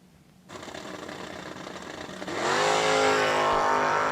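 A drag racing car sits at the start line of World Wide Technology Raceway with its engine revving hard, a close buzzing roar that builds in two steps and then holds at a high, rising pitch.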